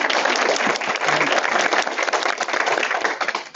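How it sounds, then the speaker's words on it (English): Audience applause at a Rotary club meeting, a loud, dense stretch of many people clapping together, steady and close throughout without talk. "let's give her a round of applause."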